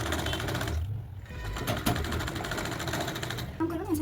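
A sewing machine stitching a fabric petal onto a blouse lining runs in a fast, even mechanical patter, with someone talking over it.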